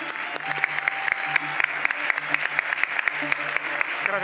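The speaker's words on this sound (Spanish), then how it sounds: "Pues para ellos un fuerte aplauso" An audience applauds steadily at the close of a lecture on mathematics and a cathedral, the dense clapping continuing throughout with some voices under it.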